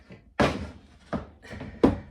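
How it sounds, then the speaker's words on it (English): A sliding door for an Eco-flex reptile enclosure is set onto its front track, producing three hollow plastic thunks and knocks at uneven intervals, close and fairly loud, with faint scraping between. "And then this door is gonna go on the front track."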